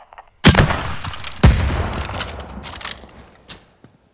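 Heavy bursts of gunfire in Call of Duty: Modern Warfare: two loud, close volleys with long decaying tails, followed by a sharper shot and a faint final pop.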